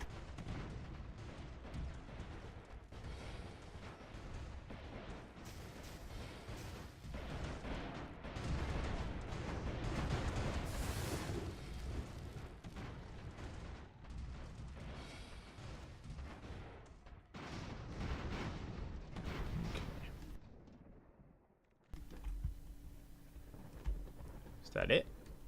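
Airship cannon fire in the strategy game Airships: Conquer the Skies, a dense, continuous barrage of booming shots and crackling impacts that builds and swells, then drops out briefly before scattered lighter shots and clicks return.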